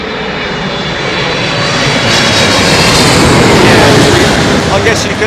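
A Boeing 737 airliner roars steadily and loudly at an airport, its engine noise broad and sustained, swelling slightly toward the middle and end.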